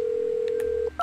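Telephone keypad tones in the video game Agent A: a single sustained dial-tone-like beep followed by a short pair of DTMF key tones, clear and close with no talking.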